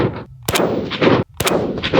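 Two sharp, loud rifle shots at a target, about a second apart, each a hard crack with a brief rumbling tail, outdoors at a range with an AK-type rifle.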